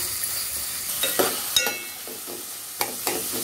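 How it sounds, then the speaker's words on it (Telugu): Sliced onions, green chillies and curry leaves fry in hot oil for a coconut milk chicken curry, with a steady soft sizzle broken by several sharp clinks and scrapes of a stirring spoon in the pan. "ఉల్లిపాయలని బాగా మగ్గనివ్వాలండి"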